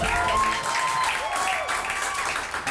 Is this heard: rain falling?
no